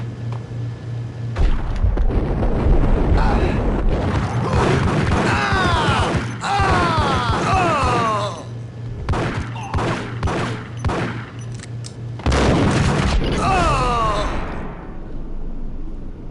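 Gunfire and explosions from the video game Max Payne: loud, dense bursts of shots and booms fill most of the stretch, with sweeping tonal cries layered through the barrage and a brief lull near the middle.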